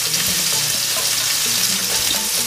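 A hamburger patty fries in a pan over low heat, a close, steady, even sizzle with no pauses and no voices.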